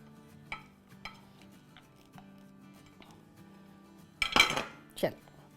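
A spoon stirs chopped coriander leaves into gram flour batter in a bowl: a few light clinks and taps, then a louder burst of scraping and mixing near the end, alone without talk.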